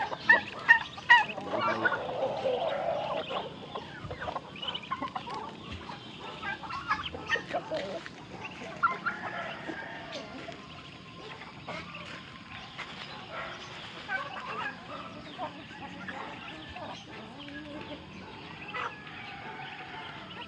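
Young chicks and ducklings about a month old cluck and chirp in a backyard, the calls scattered and moderately close over a quiet background.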